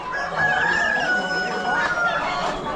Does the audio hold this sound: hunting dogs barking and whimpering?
no